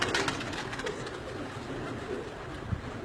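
Pigeons at a Lahore breeder's loft coo in a continuous, overlapping chorus of soft throaty calls, close and steady, with a dense rustle of birds around them.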